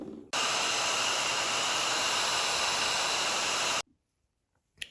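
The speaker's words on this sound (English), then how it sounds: "I took my hairdryer and dried that up" A hair dryer drying a watercolor painting blows with a steady, loud rushing hiss for about three and a half seconds, then cuts off abruptly into near silence.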